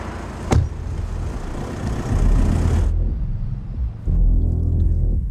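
A car door shuts with a sharp bang as someone climbs into the car, the engine idling low underneath, then a second heavier thump and the engine rumble resumes close by.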